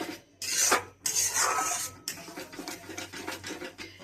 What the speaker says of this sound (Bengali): এবার টক দইটা একটু কষিয়ে নিতে হবে।